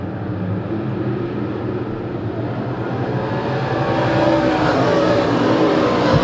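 A pack of Open Sportsman Division race cars charges down the back straightaway at Lebanon Valley, engines roaring loud and continuous, the dense drone swelling slightly as the field draws nearer.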